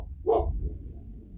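One short bark from a dog reacting to a UPS delivery, moderately loud and a little distant, over a steady low rumble of background noise.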